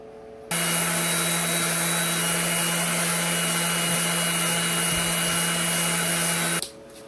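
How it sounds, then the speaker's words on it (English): A bandsaw trims a wooden piece, its motor starting abruptly into a loud, steady, droning whine with a constant hum that runs for about six seconds before cutting off. "I'm going to take it to the bandsaw, and I'm going to trim it"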